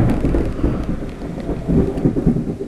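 Steady rain falls with low thunder rumbling through it, the pouring wash holding an even, fairly loud level throughout, with no voices.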